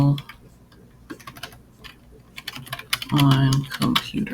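Quick ticking keystrokes on a computer keyboard come in short bursts, close and clear, with a person talking over part of it.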